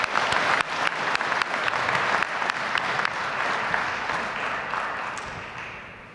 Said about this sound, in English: Can we give an extra round of applause for Magic Johnson